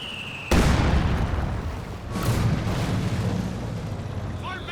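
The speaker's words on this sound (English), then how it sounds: "There's this barrage as well." An artillery barrage in the strategy game Company of Heroes 2 erupts with a sudden loud blast, followed by a second heavy explosion and a rolling rumble of shelling underneath.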